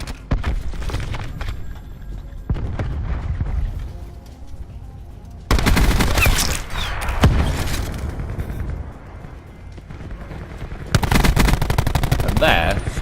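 Rapid automatic gunfire bursts in a team deathmatch video game on a map called Lockup, with loud, sharp volleys separated by quieter stretches of scattered shots and impacts, close and punchy.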